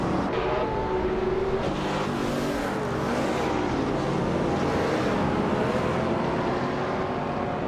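Engines of racing cars roar in a racing game, led by a 2004 Porsche 911 GT3 on an alpine course: a dense, continuous drone of revving motors with shifting tones that holds steady for the whole stretch.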